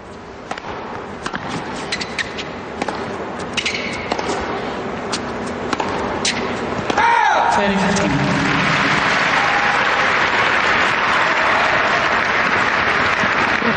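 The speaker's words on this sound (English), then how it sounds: "The crowd will clap anything at the moment as long as Justine wins the point." Crowd applause at a 2008 Antwerp women's tennis semifinal, a dense burst of clapping swelling midway and holding loud to the end, with commentary voices heard beneath and a few sharp ball-strike pops early on.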